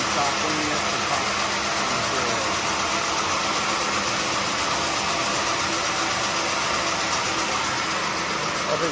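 A horizontal bandsaw mill's electric motor runs at full speed, a steady, loud, even drone with a constant hum and broadband whir that holds unchanged throughout.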